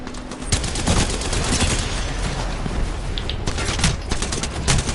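Dense, continuous gunfire from an Apex Legends match, rapid overlapping shots and bursts rattling loudly and close throughout, with mechanical clanks mixed in and no one speaking.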